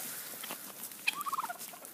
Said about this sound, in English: Here is our Bourbon Red Turkeys.